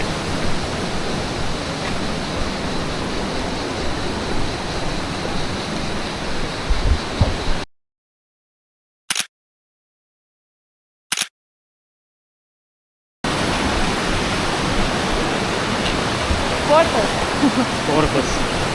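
Rushing water of a waterfall in Sapadere Canyon, Turkey, a loud, steady broadband roar heard up close, cut off for several seconds with brief clicks before the roar returns.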